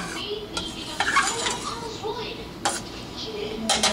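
Spoon scraping and clinking against a cooking pot while homemade jam is stirred, a few sharp metallic taps over a steady background, with voices talking nearby.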